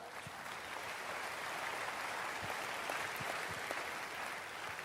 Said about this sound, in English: For those of you guys that qualified for the 10 plus or the 20 plus, give yourselves a round of applause.